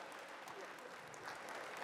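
Audience applause fills a large coordination meeting hall for public works officials, a steady dense wash of clapping that swells slightly toward the end, with no voices standing out.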